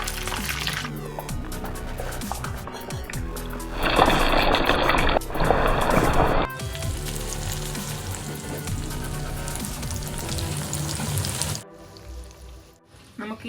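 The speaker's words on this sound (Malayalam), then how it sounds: "ഇനി വറുത്ത് പോരാം." Netholi anchovies dropped into hot oil with curry leaves, frying for a crispy restaurant-style fish fry, a loud crackling sizzle that surges for a few seconds then settles into steady bubbling, with kitchen clatter and a quieter ending.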